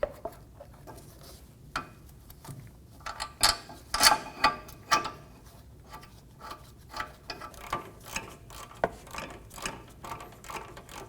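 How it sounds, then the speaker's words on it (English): A ratchet spins caliper bracket bolts on the rear brakes of a 2018-2024 Volkswagen Tiguan, producing quiet bursts of rapid clicking with a few louder metallic clanks in between, close by and with no talk. "Get the bolts started for the caliper bracket."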